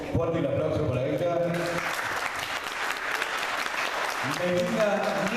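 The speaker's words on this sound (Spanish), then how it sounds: "Vamos con fuerte un aplauso para ella." Audience applause for a diploma recipient at an art exhibition opening, clapping rising and continuing over several seconds, with voices talking over it at the start and again near the end.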